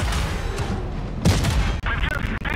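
Tank gunfire in a video game battle: a sharp cannon blast midway rises over a busy wash of battle noise, followed by smaller cracks and hits, with a player talking throughout.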